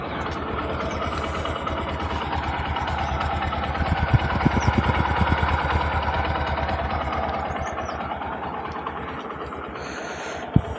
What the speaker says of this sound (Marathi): तर बाईक आता स्टार्ट झालेली आहे.